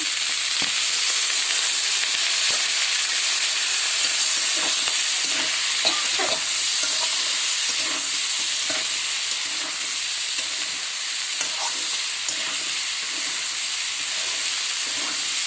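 Potatoes are stirred with pork in a frying pan over steady loud sizzling and hissing, with scattered scraping knocks of the spoon against the pan throughout.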